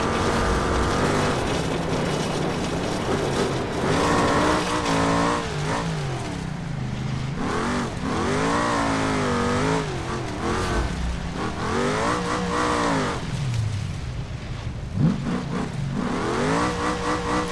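A BeamNG driving simulation car labours off-road in sand with its engine revving and straining continuously, rising and falling in pitch with throttle and wheelspin, a loud sustained drone throughout.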